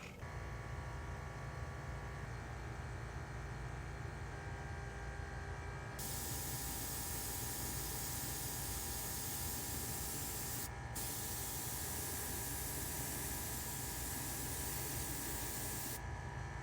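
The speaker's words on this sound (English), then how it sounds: "That stuff definitely goes on nicely. Really easy to spray." A diecast Bandit Trans Am being spray painted in a spray booth, with steady aerosol hissing in long continuous bursts and short pauses between them.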